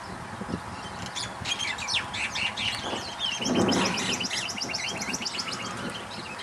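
A flock of myna birds chirps and squawks in dense, overlapping calls, the bright trills constant and fairly close, with a louder burst of cries near the middle.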